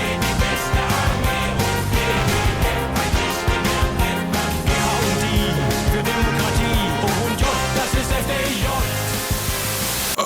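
Dense, driving boss theme music from the Roblox game Defend The Train, with steady beats and layered tones, loud and continuous throughout, with no voices.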